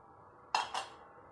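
A small cooking pot is handled in a home kitchen, giving two quick metallic clinks close together against a quiet background.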